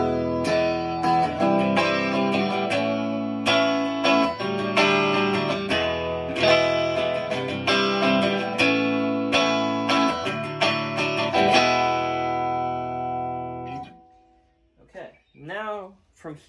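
Electric guitar through Woodcraft Bobcat Lipstick pickups, bridge and neck humbuckers combined, plays strummed and picked chords with a bright, effected tone for about fourteen seconds, then cuts off, leaving a few faint bent notes at the end.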